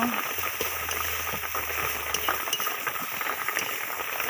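Ginger-garlic paste with turmeric and chilli powder frying in oil, a soft continuous sizzle with faint stirring scrapes throughout, steady and close.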